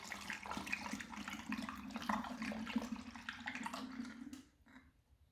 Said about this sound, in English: So here you just pour it all in